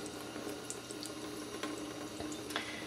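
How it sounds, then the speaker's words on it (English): A makeup brush rinsed under a running tap, with a steady, faint splash of water into the sink and a few brief drips and knocks, no voices. "I'm going to rinse it off."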